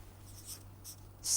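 Pen writing during a lecture, a few soft scratchy strokes up close and faint, ending in a brief louder scrape.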